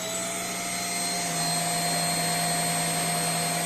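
A mattress vacuum cleaner for bed bugs runs at full power, a loud steady motor whine with a constant high hum that rises slightly as it settles, with no talking.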